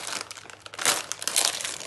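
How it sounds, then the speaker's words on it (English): Thin, brittle rice paper for Vietnamese spring rolls being bent until it crinkles and cracks, a close, dry crackling that swells into louder bursts of crisp snapping. "It's very brittle. If you bend it, it breaks like that."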